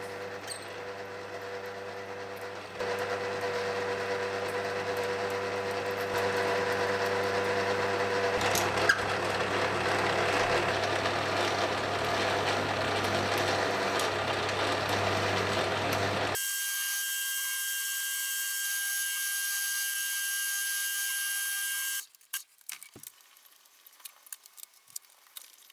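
A metal lathe drills through an oil filter bracket part and then parts it off, a steady loud machining whine for about sixteen seconds, then a higher tonal cut, followed by a few clattering knocks.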